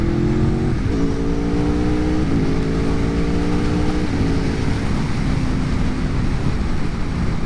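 A 2020 Aprilia Tuono V4 1100 Factory motorcycle, heard on a ride, its V4 engine revving loudly and climbing through several quick-shift gear changes in a series of rising pitch steps, all under a heavy rush of wind.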